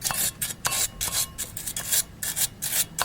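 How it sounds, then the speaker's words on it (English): Small wire brush scrubbing dust off the brake caliper slides of a Ford Crown Victoria during a front brake pad change: about ten quick, scratchy back-and-forth strokes in an uneven rhythm, close and fairly loud. "get a little wire brush, clean these things up"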